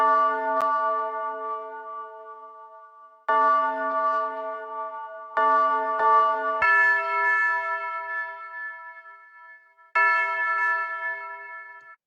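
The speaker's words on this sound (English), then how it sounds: "Next sound we have are these bells." Bright tuned bell tones, with reverb and echo effects in a dark, scary FL Studio beat, ring in a slow melodic pattern, each struck note sustaining and fading before the next one sounds.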